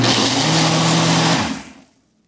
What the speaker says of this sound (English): when you have this kind of blender as a Ninja, sometimes you got to hold it this way, and that keeps it going